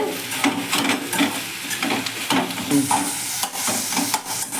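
Ponnanganni greens are sautéed with green chili in a pan, giving a dense, close sizzle with continual stirring scrapes and soft clatter, loud and without talk.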